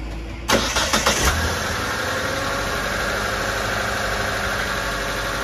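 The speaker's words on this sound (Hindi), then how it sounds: "सो इस गाड़ी को मैं स्टार्ट करूंगा।" A car engine cranks briefly during a jump start, catches, and settles into a steady idle that runs loud and close to the end.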